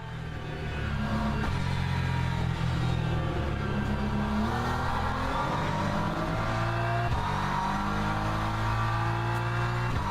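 Several GT3 race cars in the Le Mans Ultimate sim rev and drone steadily, engine notes rising and falling over ten seconds, weaving to warm their tyres with faint tyre squeal mixed in.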